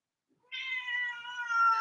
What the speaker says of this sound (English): Oh, Kitty has a lot to say about that